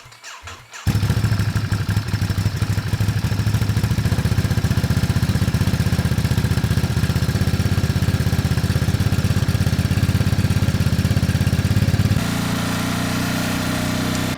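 A 2023 Ducati Monster+ motorcycle cold starts after a brief quiet moment, then settles into a loud, steady, rumbling idle that drops slightly in level near the end.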